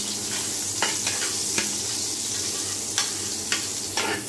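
Green chilli, chopped garlic and onion frying in oil for noodles, a steady close sizzle broken by several sharp scraping stirs and clinks against the pan, with no talk.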